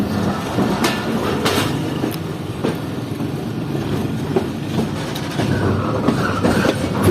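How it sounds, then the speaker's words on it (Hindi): A passenger train hauled by locomotive EMC 15490 enters Jand Junction railway station with a loud, continuous rumble and steady clickety-clack of wheels over rail joints, heard close from on board without voices. "तो पूरे 12:33 पर ट्रेन एंटर हो रही है जन जंक्शन रेलवे स्टेशन पर।"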